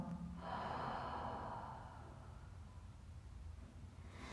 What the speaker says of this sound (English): One more breath in, breath out.